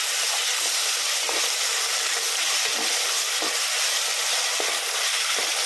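Ginger garlic paste frying in oil in a pan for aloo biryani, a loud, continuous hissing sizzle with occasional soft pops and no talking.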